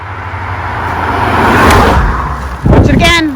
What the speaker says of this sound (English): These stinking cars are coming past here like it's a stinking highway